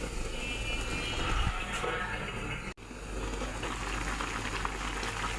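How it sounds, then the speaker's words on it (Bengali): Fish curry with kachki fish and potatoes simmering in a pot, a steady bubbling boil with a continuous hiss, close and moderately loud, briefly cut partway through. "এই যে দেখুন ঝোলটা ফুটে গেছে।"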